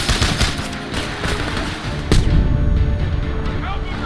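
Dense gunfire in Homefront rattles continuously in rapid bursts, with a heavy crack partway through, loud and near, while voices shout over the shooting.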